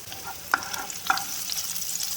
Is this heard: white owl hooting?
no